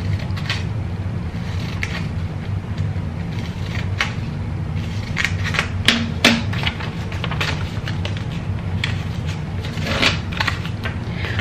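Scissors snip through paper while pieces for a paper waterslide are cut out, giving a series of short, crisp cuts and rustles at irregular intervals over a low steady background hum.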